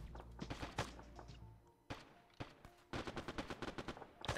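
Enemy gunfire in a video game, rapid bursts of shots and single cracks, some near and some farther off, layered into a busy firefight with no talk.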